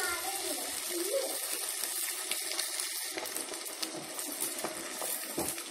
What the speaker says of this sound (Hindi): इसे हम डाल के अच्छे से फ्राई करेंगे।